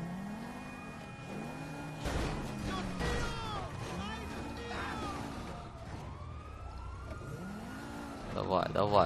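A car speeds along with a police siren wailing in GTA V, the siren sweeping up and down in repeated cycles over steady engine and road noise, with a voice talking beneath it at points.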